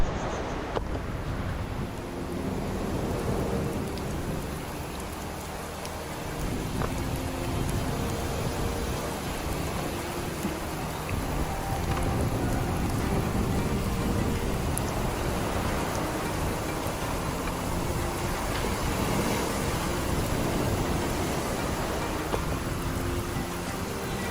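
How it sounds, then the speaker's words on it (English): Steady rain falls continuously on a remote island in a broad, even hiss, with scattered drips and faint knocks beneath, no voices. "the rain has started again"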